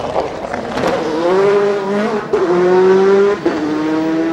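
A 2005 Le Mans race car accelerates hard back into the race, its engine note rising in clear gear-by-gear sweeps, loud and close, with a brief tire squeal at the start.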